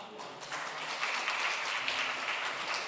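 Applause from a church teachers' college audience after a lecture, a steady wash of many hands clapping at moderate distance, with a voice briefly speaking over it.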